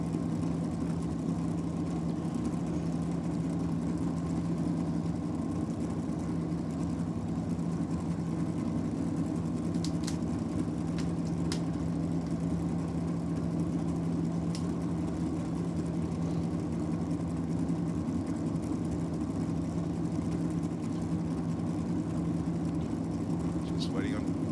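A naturally aspirated, carbureted drag racing car engine idles at the strip in a steady, low, rumbling drone that holds throughout, with occasional faint clicks above it.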